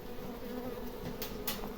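A honeybee swarm buzzes inside a roof, a faint, continuous insect drone with brief louder passes of individual bees close by.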